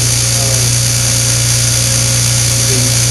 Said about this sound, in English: the bench grinder comes on